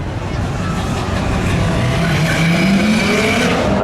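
A Subaru Outback and a Chevy Camaro launch together at a spectator drag race, giving a loud, sustained engine roar that builds steadily with rising pitch.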